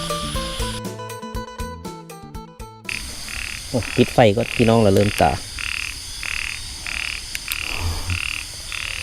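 Frogs croaking at a morning frog-hooking spot, a steady pulsing series of croaks with a few louder nearby calls, with a brief burst of music at the start and someone speaking briefly over it.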